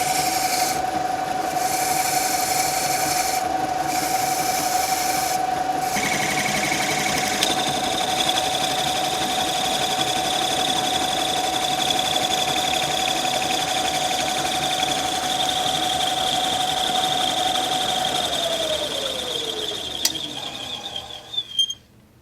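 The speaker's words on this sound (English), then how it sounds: "let me try sanding this a little bit more and getting the surface a little bit more even" A wooden ring spins on a lathe while being sanded, giving a steady, loud whirring rasp that holds for about twenty seconds with a few brief shifts in pitch, then winds down and stops, with no talking.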